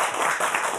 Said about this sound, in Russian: вот эти аплодисменты для вас.